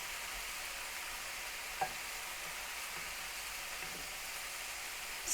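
Soft, steady sizzling of vegetables frying in a pan, a continuous crackling hiss with a faint clink partway through.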